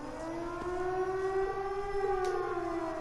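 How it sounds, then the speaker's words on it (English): A wailing civil-defense siren sounds from a fort in the video game The Legend of Heroes: Trails of Cold Steel, a steady distant rising-and-falling tone held throughout with no talk. "It sounds like a siren. It seems to be coming from the fort."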